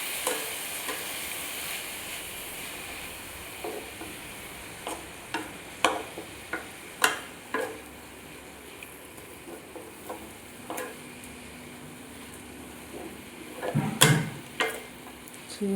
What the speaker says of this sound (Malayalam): ചീര ഒന്ന് ഇളക്കി കൊടുക്കാം